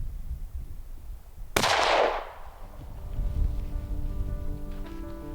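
A single sharp rifle shot cracks out at a caribou stag during a hunt, followed by a rolling echo that fades over about a second, set against quiet outdoor background noise.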